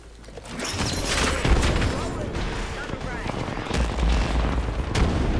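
Gunfire in the Apex Legends battle royale game during a third-party fight, with dense, rapid shots and impacts rattling almost continuously at steady loudness throughout.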